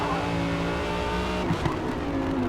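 A race car engine in Forza Motorsport howls steadily as it accelerates through a corner, loud and close with rich harmonics, a brief shift in pitch and a small bump partway through, with no talking.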